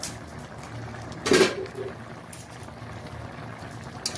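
A lid is lifted off a pot of kohlrabi, potato and prawn curry with greens, a single short clatter of cookware, then the food is stirred over a soft, steady simmering hiss.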